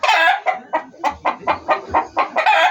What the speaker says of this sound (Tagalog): kunwari umalis sa pugaran yan at kumakak, yan, tapos na yung mangitlog.